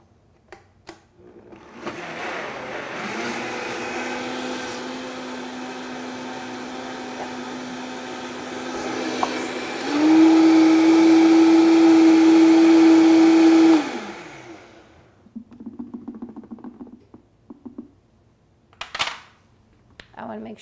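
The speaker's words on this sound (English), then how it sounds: "I'm gonna blend this up using my blender" A kitchen blender whirs through a flan mixture of eggs and vanilla extract, a steady motor drone for roughly twelve seconds that rises to a louder, higher pitch near the end before cutting off, followed by faint handling clatter.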